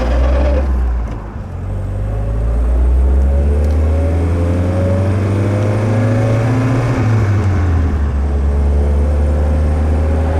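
A 1950 Sunbeam Talbot's engine hums smoothly while driving, a loud, close, steady drone with the pitch gently rising and then dropping as the car shifts gears.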